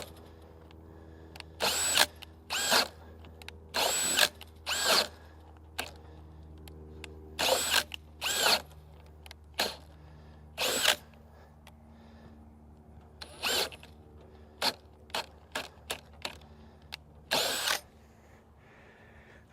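Ryobi cordless drill on an EDGE battery at speed setting 2, whirring in repeated short bursts of a second or so with pauses between, close and fairly loud over a low steady hum.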